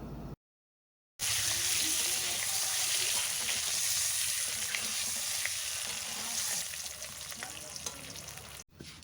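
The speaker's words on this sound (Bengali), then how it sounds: "লবণ আর হলুদ গুঁড়ো দেওয়ার পর নাড়াচাড়া করে ডিম ভেজে নেব" Duck eggs fry in hot oil with salt and turmeric, a loud, continuous sizzle with scraping stirs, after a brief silent gap at the start.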